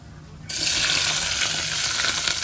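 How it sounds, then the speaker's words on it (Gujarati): A sudden loud sizzle erupts as green chillies hit hot oil, then holds as a steady, bright frying hiss close by. "હવે તળવાના છે લીલા મરચા"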